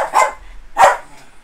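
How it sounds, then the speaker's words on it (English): Two sharp, strained barks from a dog hoarse from prolonged barking, about half a second apart, fairly close and high-pitched, with a little quiet between them. "She's been barking so long, her bark is going a really high pitch"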